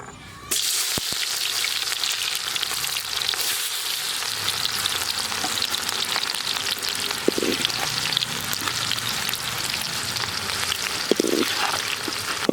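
Onion and garlic frying in soybean oil for a village-style egg curry, a steady loud sizzle that starts abruptly and crackles on for about twelve seconds, with occasional stirring clinks and no talk.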